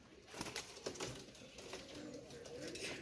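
High-flyer pigeons give soft, repeated cooing calls close by, in short rhythmic bursts over a quiet background with no talking.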